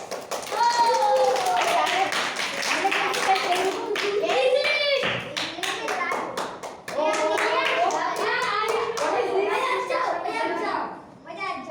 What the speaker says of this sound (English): let's clap for it